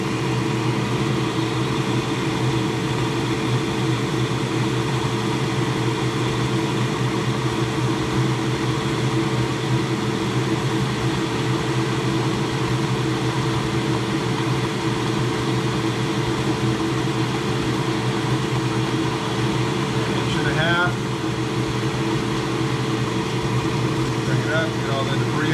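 A drill bores into an Ebonite Fireball bowling ball, giving a steady, loud mechanical hum and whine that runs unbroken throughout, with voices talking over it.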